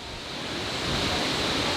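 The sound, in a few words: small waterfall flowing under a road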